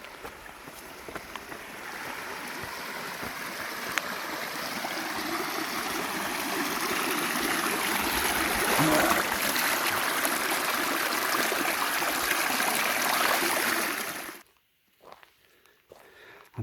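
A waterfall and stream rush in a dense, steady roar along a forest trail in Washington, loud and close, building slightly before cutting off near the end into a few faint scuffs.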